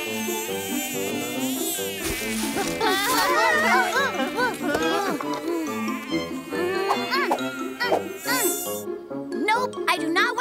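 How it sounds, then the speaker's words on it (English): Cartoon mosquitoes buzz through a forest, their whine carrying over a busy music score with melodic swoops and steady rhythm. "There's lots of mosquitoes around,"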